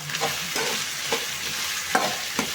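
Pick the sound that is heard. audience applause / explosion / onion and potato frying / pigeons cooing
onion and potato frying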